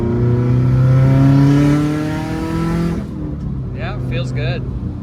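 A tuned 2015 Subaru WRX STI, Stage 2+ with an external wastegate, revving hard at full throttle in third gear. The engine drone climbs loud and steady for about three seconds, then eases off with a brief fluttery burble.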